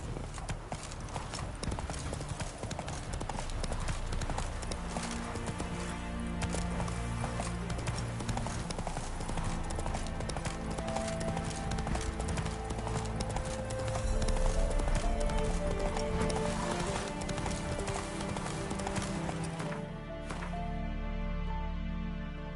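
Roach, the horse in The Witcher 3, gallops in fast, steady clip-clop hoofbeats over game music, with a brief voice and a sudden drop in the last few seconds.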